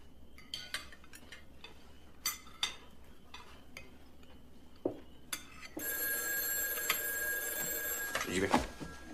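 Telephone bell ringing loudly and continuously for a few seconds indoors, following quieter clinks of cutlery and dishes, with people talking around it.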